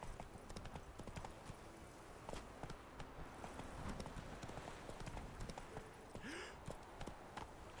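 Roach the horse gallops in The Witcher 3, hooves clip-clopping in a steady rapid rhythm that stays close and fairly loud throughout, with a brief whinny-like sound near the end.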